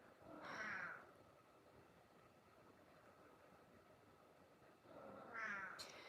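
A cat meows twice, near and fairly loud, once at the start and again near the end, with a quiet hiss of background noise between the calls.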